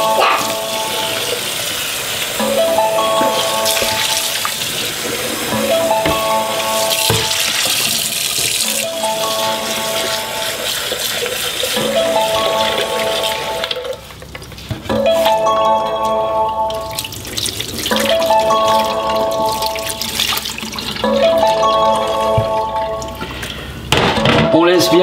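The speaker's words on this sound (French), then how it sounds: "On passe un coup d'eau froide." Cold tap water runs steadily into a sink to rinse something, a continuous close hiss that carries on for the whole stretch beneath repeating tonal sounds.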